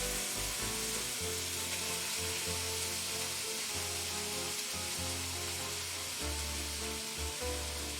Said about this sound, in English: throw the rest of this in the pan just to warm it up